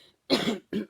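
Two coughs from a person with a cold, a longer raspy burst followed by a shorter one, close and fairly loud with no talk.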